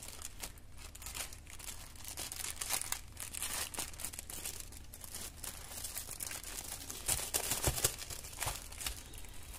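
Paper sheets rustle and crinkle as they are handled and sorted, a steady soft crackling texture with a few sharper crinkles near the end, fairly close and without talk.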